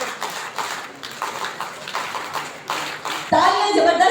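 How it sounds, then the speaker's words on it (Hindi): Scattered rhythmic clapping from an audience at an award ceremony honoring election officials, with a voice speaking over it before a louder burst at the end. "तालियां जबरदस्त होनी चाहिए"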